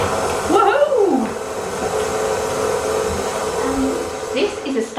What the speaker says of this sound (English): I'm going to cream this until it's nice and light and fluffy. So hopefully I've got my mixer on.